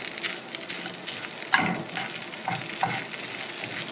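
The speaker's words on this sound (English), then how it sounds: "just keep kind of stirring it around, and we're just trying to get a little bit of a crust on it" Boudin sausage in olive oil sizzles steadily in a frying pan while being stirred around, with soft scraping and a couple of small clacks, close and fairly quiet, no voices.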